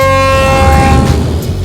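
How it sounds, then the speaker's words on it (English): Musical horn on the Teenage Mutant Ninja Turtles van from the 2016 film Out of the Shadows, a loud tonal honk sliding through a short melody. "when the turtle van honks, people will recognize the melody of the horn"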